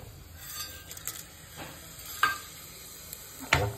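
Whole garam masala spices sizzle and crackle in hot oil during tempering, with a steady low frying hiss and a few sharper pops and stirring scrapes scattered through.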